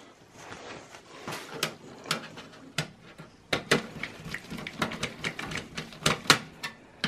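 Screws are fitted into an HP Pro 3500 desktop computer case, giving faint, irregular metallic clicks and sharp ticks scattered through a quiet room.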